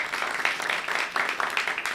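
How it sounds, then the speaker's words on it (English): Applause from a church service audience, a steady dense patter of many hands clapping at moderate distance throughout. "Hold your applause until I get through all this"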